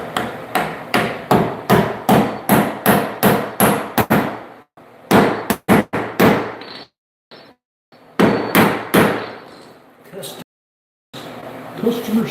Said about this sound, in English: Drywall pulling off the wall.